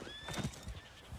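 Horse in Red Dead Redemption 2 giving a short whinny with a wavering pitch, quiet and fairly close, mixed with a few soft hoof thuds.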